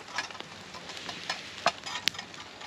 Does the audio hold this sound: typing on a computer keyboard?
no